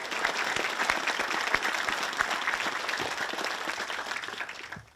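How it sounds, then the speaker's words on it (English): Sustained applause from a sizable crowd at an outdoor veterans plaza dedication, dense clapping at steady volume that tapers off at the very end. "So if we can give them a round of applause,"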